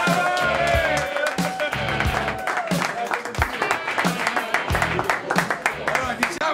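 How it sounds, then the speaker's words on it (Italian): Dense applause fills a hall at a club's 2012-13 season presentation as a player is introduced. The clapping is steady and fairly loud, with crowd noise and voices mixed through it. "Un grande applauso a Alessandro Corrado."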